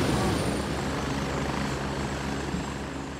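A helicopter in the military shooter Gray Zone Warfare flies close overhead, its steady loud rotor thrum and turbine whine filling the whole stretch without a break.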